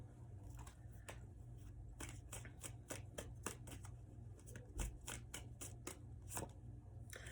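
Tarot cards being gathered up and shuffled after spilling, heard as a rapid series of close, sharp card flicks and riffles over a low background hum.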